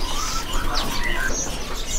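Short, high chirps and thin calls from NTB bushlarks at a bird market, several faint tweets scattered over a steady hum of market noise.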